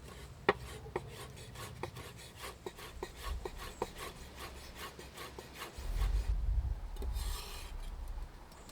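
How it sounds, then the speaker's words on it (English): Chives sliced with a knife on a cutting board while preparing a bacon appetizer: a brisk series of sharp, close taps as the blade chops through and strikes the board, alone with no talk, ending in a busier scraping flurry. "the chives, which I'm going to slice up"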